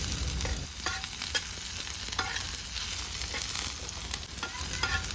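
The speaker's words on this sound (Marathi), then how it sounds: "दोन पळी तेल घालूया फोडणीसाठी मिरची आणि लसूण घालूया नंतर त्यात कांद्याच्या पातीतला कांदा चिरून घालूया आणि हे परतवून घेऊया" Chopped spring onion bulbs, green chili and garlic fry in oil while being stirred, giving a constant close, even sizzle with small crackles and no talking.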